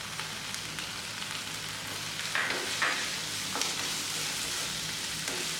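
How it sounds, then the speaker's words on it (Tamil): Ivy gourd with coriander and curry leaves sautéing in a pan, a soft continuous sizzle with a few light scrapes of the spoon partway through. "இதெல்லாம் சேர்ந்து ஒரு மூணு நிமிஷத்துக்கு வதக்குங்க"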